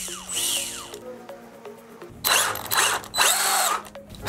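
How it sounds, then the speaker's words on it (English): An RC car's electric motor whirs and revs in short bursts while a loose pinion gear, its grub screw not tight, slips and rattles instead of driving, with whining spin-ups and mechanical chatter close by. "Look at this pinion gear not working because the grub screw isn't tight."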